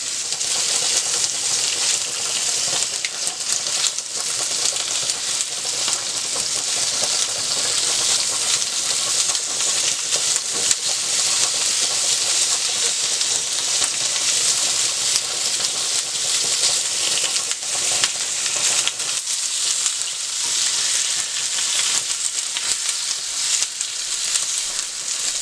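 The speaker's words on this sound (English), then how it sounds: "Put our sausage in there," Sausage frying in a hot pan, a loud, dense, unbroken sizzle with steady hiss and crackle throughout, close up and with no talking.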